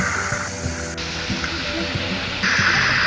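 Steady rushing water from a fountain at the Vittoriano on Piazza Venezia in Rome splashes without pause, with faint low background sounds underneath.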